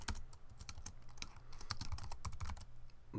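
Rapid, close clicking of a computer keyboard being typed on, with irregular bursts of keystrokes and brief pauses.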